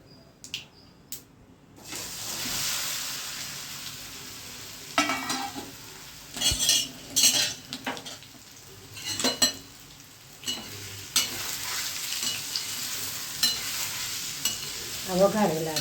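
Mustard seeds, fenugreek, dried chilies and asafoetida hit hot oil for a tempering, bursting into a loud, crackling sizzle after a quiet start, with spatula stirs and scrapes recurring through the spattering.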